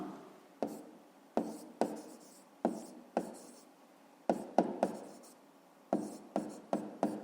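Pen or pencil writing by hand on paper during a fifth-grade maths exercise, a series of short scratchy strokes with soft taps, close and quiet, with no voices.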